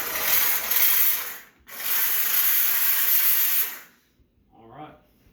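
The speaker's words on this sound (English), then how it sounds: "this thing shoots just pure dry steam" A Grant's handheld steam cleaner shoots dry steam at a window in two loud, sustained hissing blasts with a short break between them, then cuts off into quiet before a voice speaks.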